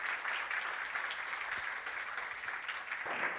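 An audience at the SSIG 2024 conference applauds for Marina with steady, even clapping from many hands, sustained for a few seconds at a modest, somewhat distant level.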